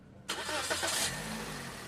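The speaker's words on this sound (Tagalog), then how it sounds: "Start ko muna itong makina." A Toyota Vios engine cranks briefly and catches, settling into a steady idle rumble close by.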